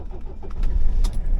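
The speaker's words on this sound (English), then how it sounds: "Let's go ahead and start her up" A car is started from inside the cabin, with keys jangling and clicking, then a swelling engine rumble that settles into a steady idle, close and fairly loud.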